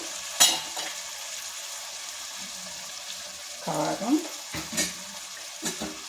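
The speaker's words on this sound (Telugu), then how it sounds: "వేసుకొని ఇలా తిప్పుకోవాలి ఇవి కాసేపు మక్కనివ్వాలండి" Capsicum pieces with salt and turmeric are stirred in a hot pan, giving soft sizzling and a few scraping spatula strokes against the metal, with brief quiet stretches between movements.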